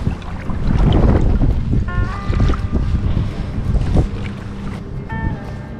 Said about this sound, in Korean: 바람이 꽤 많이 붑니다.